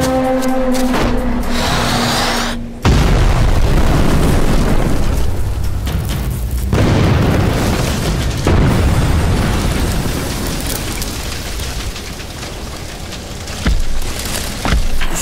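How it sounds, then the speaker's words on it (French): A toy Playmobil house blown apart by a staged explosion: a sudden loud boom with a broad rumbling burst that lingers and slowly tails off, preceded by a sustained tone, with no talking. "Attention à la détonation! Attention, maintenant ça va exploser!"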